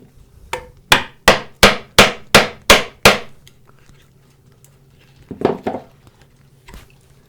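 A mortising chisel is struck with a mallet to undercut a slot in wood for a drawbored mortise and tenon, giving seven sharp, evenly spaced close knocks, then a pause and a couple of softer blows.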